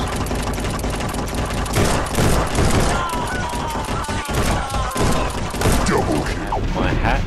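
Rapid pistol gunfire in a video game, dense bursts of loud, close shots mixed with game effects and impacts over several seconds, with a voice talking underneath.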